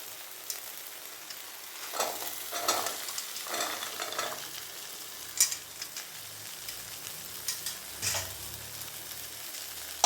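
Cut carrots and beans drop into hot oil for veg biryani and are stirred, a soft continuous sizzle with intermittent scraping and clinks of the spoon against the pan, close and moderately quiet.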